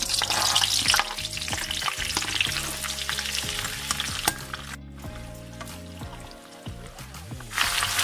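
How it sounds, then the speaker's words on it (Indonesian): Green chilies sizzle and crackle in a hot pan, with occasional stirring scrapes and bursts of spitting oil. "Kemudian kita goreng cabai hijau."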